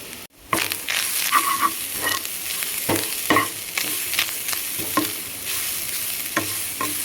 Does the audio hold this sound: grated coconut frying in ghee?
yes